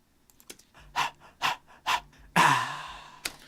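Rhythmic breath percussion in a Michael Jackson style pop production: a series of sharp, close vocal pants and gasps in a steady beat, followed by a longer breathy exhale-like burst, with no talking.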